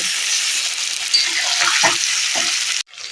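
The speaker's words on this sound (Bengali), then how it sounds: "মাংসটাকে নাড়াচাড়া করে ভালো করে একটু ভেজে নেব" Meat frying in hot oil for biryani while it is stirred: a loud, continuous sizzle with a few scraping stirs partway through. The sound cuts out abruptly near the end, then the sizzle returns.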